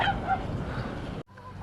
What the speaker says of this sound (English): Good day for geese.